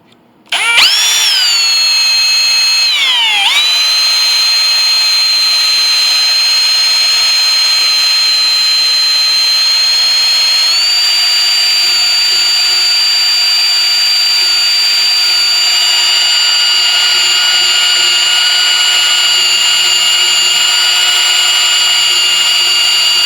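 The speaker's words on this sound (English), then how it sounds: "So I can use this to match the angle and drill these out." A power drill whines steadily at high speed for a long stretch, drilling out holes in the pinblock of an 1881 Steinway Model A piano, its pitch dipping briefly near the start, loud and close.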